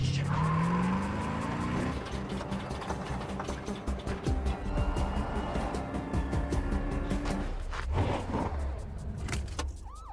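A film car chase plays loudly, with engines revving, tires squealing and skidding, and impacts scattered through a dense mixed soundtrack.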